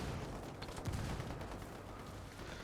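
Gunfire and mortar fire in a video game, a spread of scattered shots and a heavier low thump near the middle, rumbling on at moderate loudness with no talking.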